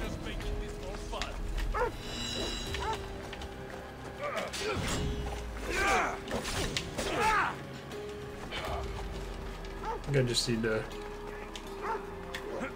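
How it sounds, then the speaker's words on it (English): A dog barks in Assassin's Creed Odyssey amid busy game sounds, clashing and shouts. Someone talks over the barks the whole time. "take out this doggy."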